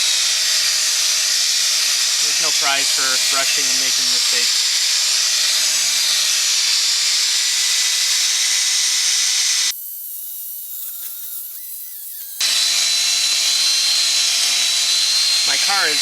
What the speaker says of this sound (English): That's full speed on the drill.